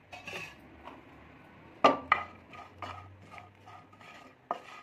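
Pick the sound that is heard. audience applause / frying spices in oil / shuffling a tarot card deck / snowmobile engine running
frying spices in oil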